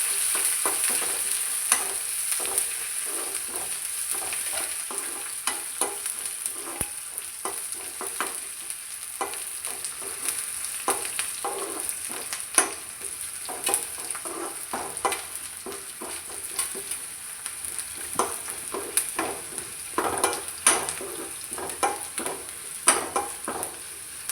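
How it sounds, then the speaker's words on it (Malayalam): Shallots and curry leaves fried in hot oil in a pan for a jackfruit erissery tempering, a steady close sizzle with frequent spatula scrapes and clinks against the pan throughout. "ചെറിയുള്ളി, കറിവേപ്പില, നന്നായി മൂപ്പിച്ചെടുക്കാം."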